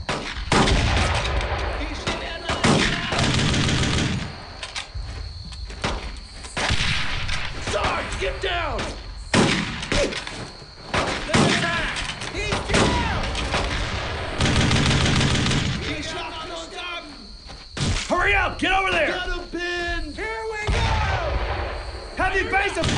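Gunfire fills the World War II shooter Brothers in Arms: Road to Hill 30, with dense rattling rifle and machine-gun bursts and heavy booms throughout, loud and continuous, while soldiers shout orders over the battle.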